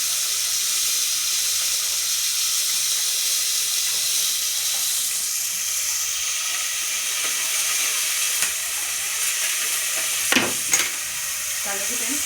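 Onions and field beans fry in a pan for a mixed vegetable palya, a steady, fairly loud hiss and sizzle running throughout, with a couple of brief clinks of stirring near the end.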